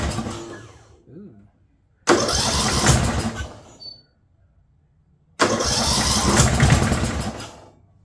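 The starter of a 2004 Murray 12.5 HP lawn tractor engine cranks in two long, loud bursts at close range, separated by a short pause.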